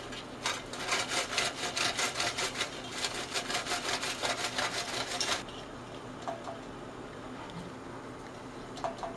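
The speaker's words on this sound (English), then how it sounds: "you have, for example, bun for hamburger, so we can grate it" A hamburger bun is grated into breadcrumbs, giving rapid rhythmic rasping strokes for about five seconds, close and fairly loud, followed by quieter scattered scrapes and taps.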